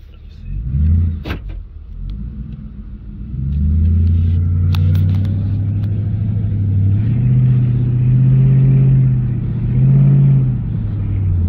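A Ford Crown Victoria drives along, its low engine rumble and road noise steady and close after a brief thump at the start, with a slight rise partway through as it accelerates.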